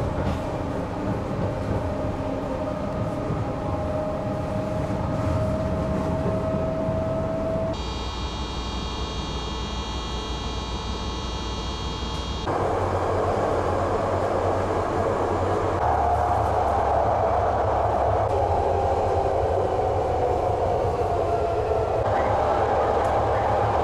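A BART train carrying the listener through subway tunnels, stations and open-air track, with a steady loud rumble and roar of wheels and motors, a sustained hum and whine that shifts as sections change, and a buzzing tone for several seconds.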